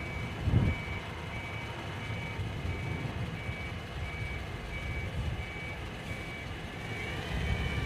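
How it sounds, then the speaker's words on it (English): Reversing alarm of an airport ground vehicle at London Heathrow, a regular series of steady beeps repeating about every second over a low engine rumble, fairly faint and with no talk. "This vehicle is reversing."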